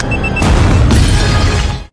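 An automatic bomb fixed to a ceiling detonates in a movie scene: a loud, close, booming blast with a crashing, shattering rumble that swells and carries on for over a second before cutting off.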